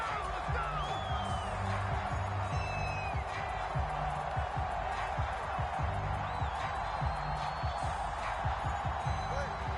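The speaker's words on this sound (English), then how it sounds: "this crowd trying to force a false start here" Stadium crowd noise in a PS4 football video game, a constant loud roar with rhythmic thumping and whoops, the fans pushing for a false start, with commentary voices over it.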